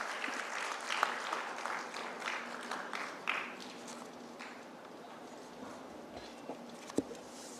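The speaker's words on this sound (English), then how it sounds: "Ladies and gentlemen, let's have a huge round of applause." Applause from a summit audience greets a dignitary onto the dais, a moderate patter of claps with uneven sharp peaks that thins and softens toward the end.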